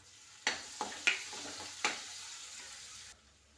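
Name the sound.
green chillies sizzling as they are added to the pan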